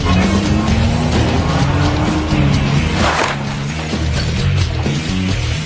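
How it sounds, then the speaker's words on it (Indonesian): Cars driving fast during a street chase, engines roaring loudly and continuously with a rising whine and a brief skid-like burst partway through. "Seketika itu juga datang mobil yang melewatinya."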